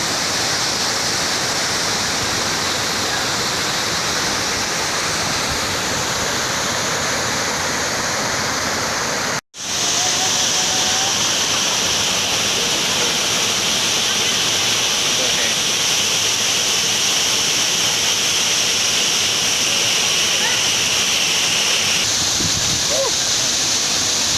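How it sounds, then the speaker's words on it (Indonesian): Antrokan Waterfall pouring down, a constant dense rush of falling water heard up close, loud and unbroken apart from one momentary cut. "Welcome to Antrokan Waterfall."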